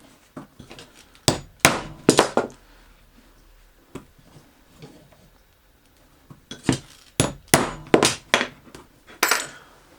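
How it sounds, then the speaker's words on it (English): Hammer blows drive a punch through holes in a leather strap keeper, landing as sharp metallic clinks in two bursts of several quick strikes separated by a quiet pause. "So I can just punch these holes all the way through."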